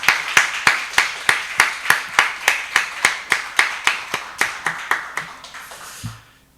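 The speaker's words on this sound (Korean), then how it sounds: "우리 청년부에게 뜨거운 격려와 축복의 박수 부탁드리겠습니다." A church congregation applauds in a steady, even rhythm of about sixteen distinct claps that ring out in the sanctuary before quickly tapering off into silence.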